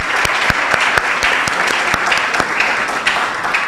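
Loud, sustained audience applause at an innovation event panel introduction, a thick wash of many hands clapping evenly with a few distinct sharp claps, no voices over it.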